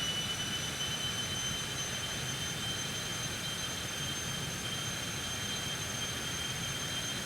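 Jet thrust reversers roar on a Citation X during landing rollout in the X-Plane 12 flight simulator, a steady, dense broadband rush with a faint high whine running unchanged throughout.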